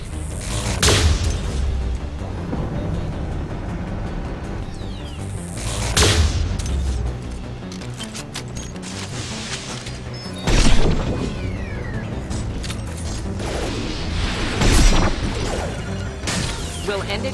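Explosions and combat crashes in the sci-fi shooter Mass Effect 2, several heavy booms and smashes spread across a sustained battle din, with one especially loud blast near the middle.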